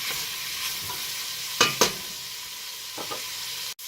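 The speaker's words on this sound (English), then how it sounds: "Give it a stir." Onions, garlic and peppers cooking down in a pot for heirloom tomato soup sizzle steadily while a spoon stirs, with a couple of scraping strokes and a soft knock near the end.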